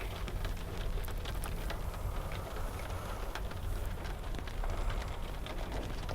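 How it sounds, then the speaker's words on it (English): Rain falls outside as a steady, even hiss with scattered drop patters, constant throughout and without speech. "It's just the rain."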